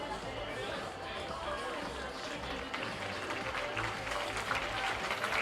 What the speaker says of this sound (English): Crowd applauds Blonder as he heads to the clubhouse